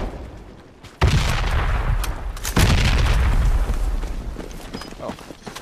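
Frag grenade detonating in the Project Reality military shooter, a sudden heavy boom followed by a second blast and sustained rumbling debris, loud and close with no talk over it.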